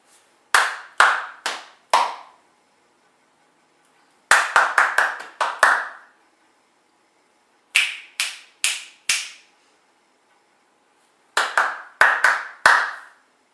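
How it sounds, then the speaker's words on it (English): Bare hands clap four short rhythm patterns, each a crisp burst of sharp claps separated by silent pauses, loud and close with no voices. "I'm going to clap a 4-beat pattern to you."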